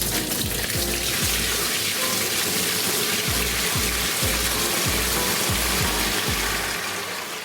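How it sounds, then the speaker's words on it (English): Water pours steadily into a homemade aeroponic plant cloner, a constant splashing, bubbling rush under a low repeated thumping pulse, loud and close throughout with no voices. "Now we just need to add water."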